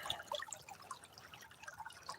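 Running water trickles and drips in a small stream-side flow where a pan sits, with quick irregular plinks and splashes spread throughout, soft and close, with no voices.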